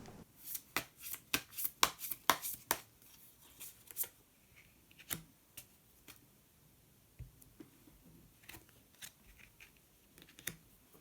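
Tarot cards are shuffled and drawn, producing quick rapid riffling clicks at first that thin into scattered soft card snaps and slides, close and quiet, with no talking.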